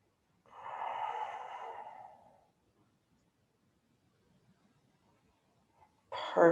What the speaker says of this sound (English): And I'm going to breathe.